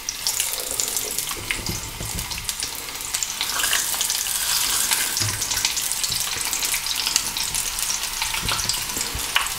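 Peppers and a chili pod fry in a hot pan, a loud, close, steady sizzle and crackle with scattered pops and the occasional scrape of stirring, with no talking.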